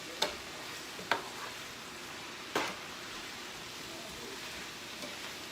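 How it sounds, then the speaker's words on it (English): Vegetables stir-fry in butter in a pan with a faint, soft hiss underneath a few sharp utensil clacks spaced seconds apart, quiet and without speech. "These vegetables are cooking quite nicely."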